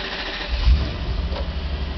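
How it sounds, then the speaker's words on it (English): Toyota Soarer 1UZ-FE V8 cranking briefly and catching into a steady low idle, the engine rumble continuous and close throughout with a swell around the moment it fires. "Cranks into life, does a system check like it should"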